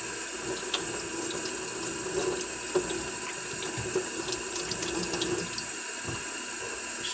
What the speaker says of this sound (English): Cold tap water, and you're just going to fill